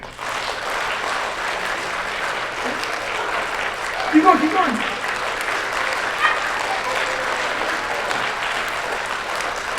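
Audience clapping together on cue at a live clown show, a steady wash of applause lasting throughout with a voice calling out encouragement over it and a brief louder burst midway.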